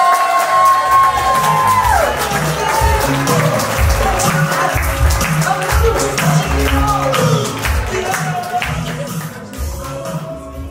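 A comedy club crowd cheers, whoops and applauds loudly and continuously as a comedian comes on stage, with a sustained tone fading early and voices shouting through the din.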